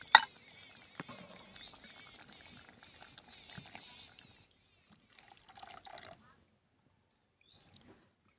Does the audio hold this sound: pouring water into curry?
yes